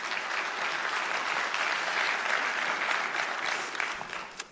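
A conference audience claps steadily in a hall, dense and sustained, then thinning toward the end.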